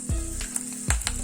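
Curry leaves hit hot tempering oil with mustard seeds, chana dal, urad dal and dried red chillies, crackling in two quick sizzling bursts within about a second.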